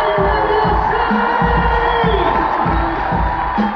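A loud studio audience at a Dr. Oz TV show taping at Radio City Music Hall cheers and whoops continuously, with scattered shouts rising above the steady roar.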